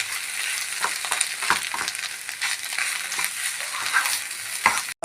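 Egg, grated coconut, turmeric and chili flakes sizzling in a pan while being stirred, a steady close frying hiss broken by scraping stirs, with no talking.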